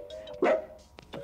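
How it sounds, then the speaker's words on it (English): A cartoon dog barks once in the video game Amanda the Adventurer, a short bright yelp over a faint steady tone, followed by small clicks. "And with me, as always, is my trusty dog, Chip."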